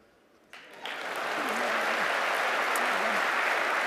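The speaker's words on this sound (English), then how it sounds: "By show of applause, how many people are here?" An audience at a corporate emcee's show breaks into applause, starting faint and quickly swelling to a full, steady round of clapping, with a voice briefly audible under it.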